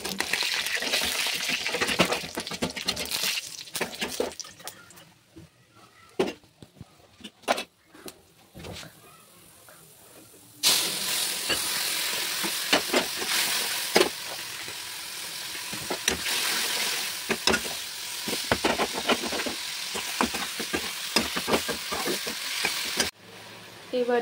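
Nigella seeds and dried red chillies sizzle and crackle in hot oil, a close, steady frying hiss with scattered pops that grows louder and denser about halfway through.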